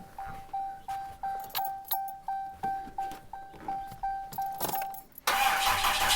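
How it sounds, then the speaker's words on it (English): A diesel pickup truck cranks over, jump-started with a DeWalt 20V battery booster: a steady run of rhythmic starter whirs, then the engine catches and roars into a loud, even idle close by. "This battery barely needed any help to start this truck, so it's not a big accomplishment, but it did work."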